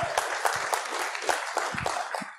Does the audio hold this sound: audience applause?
yes